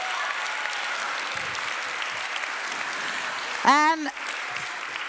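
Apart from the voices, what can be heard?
audience applauding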